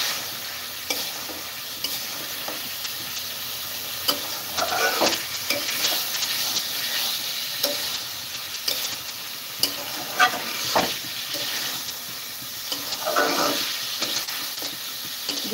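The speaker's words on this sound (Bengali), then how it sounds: "এখন আবার একটু ভাজা ভাজা করে নিব" Duck meat and potatoes fry in a pan with a steady sizzle, broken by repeated scraping and clattering strokes as a utensil stirs them, close and continuous with no talk.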